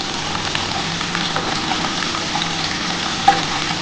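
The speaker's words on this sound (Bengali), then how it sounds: "এই একটা আলু দিয়ে দিলাম। এটা একটু হালকা করে ভেজে নিই বন্ধুরা।" A cut potato fries gently in a little oil in a pan, giving a steady close sizzle and crackle with a faint stirring clink near the end.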